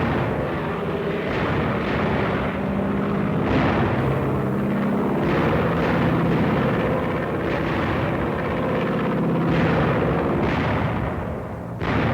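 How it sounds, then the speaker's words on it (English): WWII American fighter planes running on 100 octane fuel roar across the sky, a heavy, continuous drone broken by repeated booming bursts. "American fighter planes with 100 octane gunning them across the sky"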